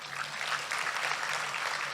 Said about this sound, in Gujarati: એ વાતે આપણે બધા એમને જોરદાર તાળીઓથી વધાવી લઈએ.